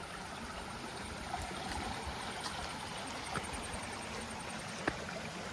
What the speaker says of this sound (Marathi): अजून नदीला पाणी बघ किती आहे